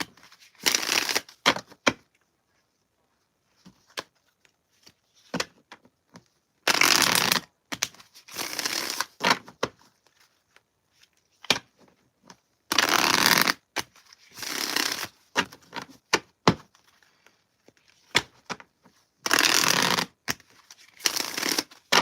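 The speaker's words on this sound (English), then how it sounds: "I be having to shuffle a lot the first time to wake cards up" Tarot cards being shuffled by hand, repeated loud riffling bursts a second or two long separated by quiet pauses and small taps, close up with no talking.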